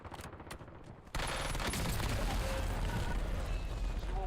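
Precision airstrike explosions in the Call of Duty Warzone video game on Rebirth Island, a sudden loud blast followed by sustained heavy rumbling and crackling bombardment that fills the rest of the clip.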